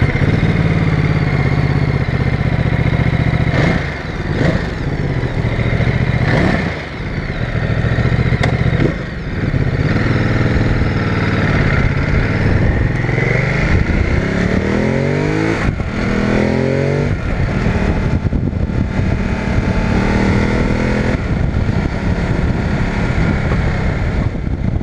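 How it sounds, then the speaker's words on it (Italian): Loud, close engine note of a Ducati Multistrada 950 motorcycle, with repeated throttle blips and revving swells, then a rising pull through the gears and steady running, with no voices over it. "Un'altra cosa fantastica secondo me della Ducati è il sound."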